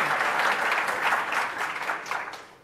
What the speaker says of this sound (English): Before you go on, now you can clap.